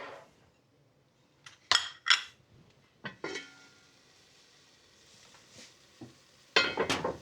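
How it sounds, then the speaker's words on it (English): Soffritto sizzles gently in oil in a pan, a faint steady frying hiss broken by several sharp clinks and scrapes of a utensil stirring against the pan, close and without talk. "The sofrito is still lovely, sizzling."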